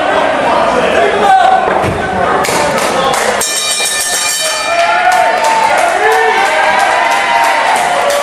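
Wrestling crowd at a BPW Battlefield North American title match cheering for Terry Adonis, a steady loud roar of voices with chants and bursts throughout, under a commentator's talk.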